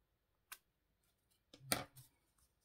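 Scissors snipping through vellum paper while trimming a small corner of a vintage-style card: a lone sharp snip, then a louder cluster of crisp cuts, close and quiet, with no talking.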